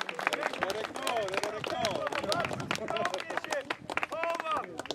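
At an outdoor medieval reenactment festival, a crowd claps for the museum director, a lively patter of hands mixed with babble and a loud announcer's voice carrying over it throughout.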